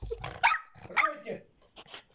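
Jack Russell terrier puppy giving a few short, high yapping barks indoors on its first day home while meeting a cat, heard fairly close with faint background sounds between the yips.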